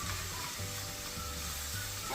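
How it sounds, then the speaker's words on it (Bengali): Onion frying in oil and turmeric in a pan, giving a soft steady sizzle with faint low hum, heard alone and fairly quiet. "এখন পেঁয়াজটা ভাজা হচ্ছে।"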